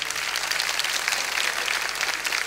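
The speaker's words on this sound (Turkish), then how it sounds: "O zaman bir de beni alkışlayın." A full studio audience claps continuously for a Turkish TV talk show host, a thick even wash of many hands with no voices on top.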